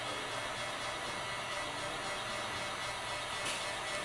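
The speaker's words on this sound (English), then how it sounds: "It's just a glorified hairdryer is all this is." A hairdryer-like heat tool blows during a painting session, a steady, even whir of airflow that holds at a low, constant level with no talk over it.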